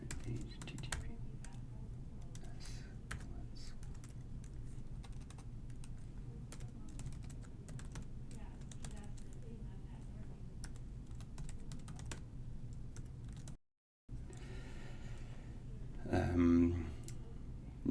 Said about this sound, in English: One of which is just for basic computer typing